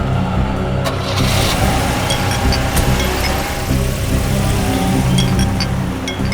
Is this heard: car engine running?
yes